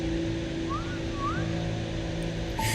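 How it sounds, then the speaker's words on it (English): Two short rising whistles, the kind used to call a dog, sound at moderate level over a steady hum, with a brief burst of noise near the end. "The sound of whistling, the same whistling that I used to call my dog."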